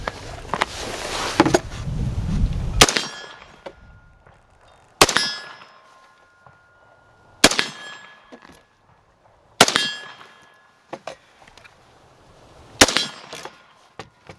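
Rifle shots from a Noveske M4 Recon AR-15 fired at a range, an initial loud burst of noise followed by five sharp, separate reports spaced a couple of seconds apart, each ringing briefly before fading to near silence.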